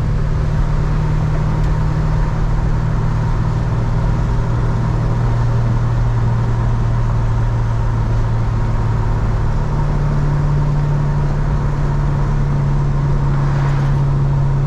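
A 1966 Chevrolet Chevelle SS with a 402 cubic inch V8 cruises at about 50 mph and 2000 RPM, giving a steady, continuous low engine drone and road rumble from inside the car.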